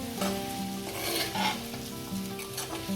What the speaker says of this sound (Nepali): मरमसला राखेपछि राम्रोसँग भुट्नुपर्छ